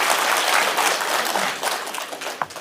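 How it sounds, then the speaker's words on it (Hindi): A large crowd at a birthday rally for Mayawati in Bihar applauds loudly and continuously, the dense clapping easing slightly toward the end. "जोरदार ताली बजाकर स्वागत करें।"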